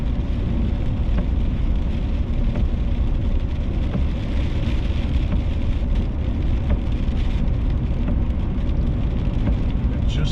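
Steady rain patters on a dually pickup truck on Ophir Pass, a constant dense hiss with scattered drop taps close around the cab and a low vehicle rumble underneath, no talk.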